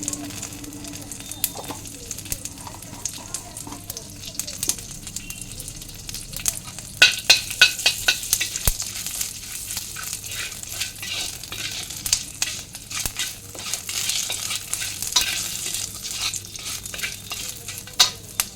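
Panch phoron seeds crackle and sizzle in hot oil, with a steady hiss broken by bursts of sharp popping and occasional stirring, heard close with no talking.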